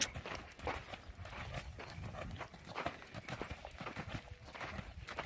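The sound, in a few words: horse cantering on a lunge circle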